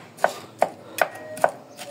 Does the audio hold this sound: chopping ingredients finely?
yes